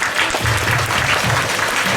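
A school assembly audience applauds a class 5C presentation, loud and continuous clapping from many children and adults throughout, with a faint murmur of voices underneath.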